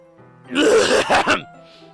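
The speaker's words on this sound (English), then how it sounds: "I clear my throat." A single throat clearing, close and fairly loud, a short rough rasp lasting about a second against a quiet background.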